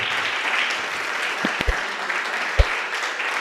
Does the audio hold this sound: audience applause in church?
yes